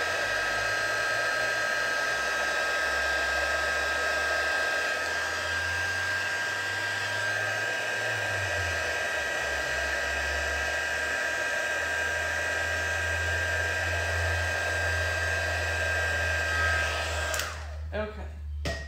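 A heat tool blows steadily and loud while heat setting coloring, a continuous whooshing whine lasting most of the stretch before cutting off near the end.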